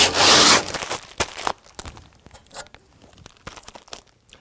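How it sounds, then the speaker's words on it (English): Plastic protective film is torn and peeled off the canister of a GatorTrax MX electric tonneau cover on a 2020 Ram 2500, with a loud ripping burst at the start followed by quieter crinkling and rubbing. "now we're going to go ahead and pull off our plastic protective film that covers our canister"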